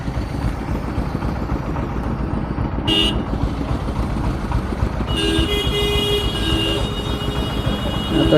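Car horns honk in dense street traffic heard from a motorbike. A short toot comes near the middle, then a longer blast follows, over a steady rumble of engines and traffic noise.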